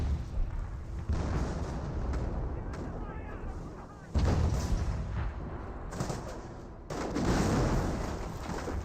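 British 25-pounder artillery in Company of Heroes booms in several heavy reports, each a sudden loud thump followed by a long rumbling tail over a steady bed of battlefield noise.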